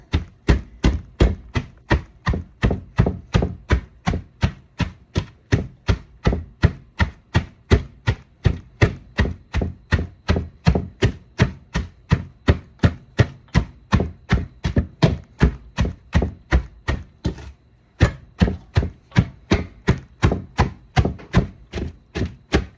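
Steady rhythmic thumping of a potato masher pounding salted cabbage for sauerkraut in a stainless steel bowl, dozens of evenly spaced blows close up with one brief pause, no talking.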